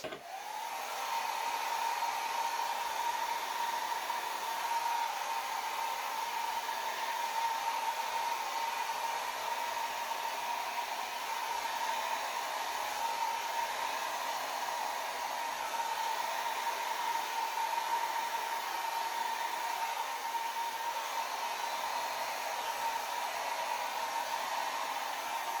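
A hair dryer blows steadily across wet acrylic pour paint, a constant close airy roar with a whining hum that holds unbroken for the whole stretch.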